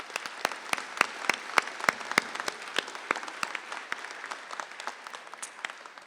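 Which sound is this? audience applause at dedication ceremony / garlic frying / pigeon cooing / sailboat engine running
audience applause at dedication ceremony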